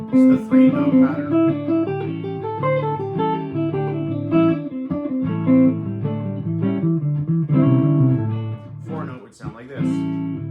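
Guitar runs a repeating three-note pentatonic lick pattern over a backing track, with quick melodic note sequences against the music and a brief pause near the end.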